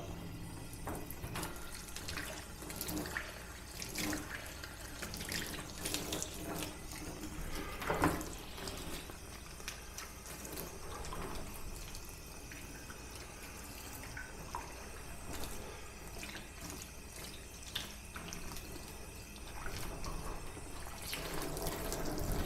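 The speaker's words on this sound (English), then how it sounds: "I'm going to wash off my my acrylic sheet that I used to roll out the pigment and the gum" An acrylic sheet used for rolling out pigment and gum is rinsed under a running tap, giving a steady, continuous wash of water with faint splashes and drips throughout, fairly quiet and without speech.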